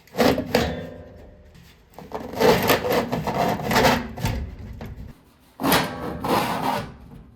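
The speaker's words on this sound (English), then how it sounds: "You can just pull the fan housing out." A metal furnace blower fan housing is pulled out of its slot, giving three bursts of loud close scraping and rubbing with short pauses between them, no voices.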